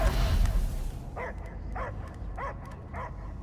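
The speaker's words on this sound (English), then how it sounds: "I hear only barking." Cosmos the space dog barks in four short, evenly spaced yips over a low rumbling film soundtrack, after a burst of noise at the start.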